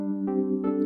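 Default patch on an Arturia OP-Xa synth: a single sustained, buzzy held tone lasting about a second, with a brief brighter swell partway through, heard alone.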